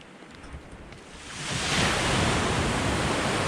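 Ocean waves washing onto a sandy beach at high tide on Brier Island, Nova Scotia, a broad hiss of surf that swells and stays loud and steady, with some wind noise.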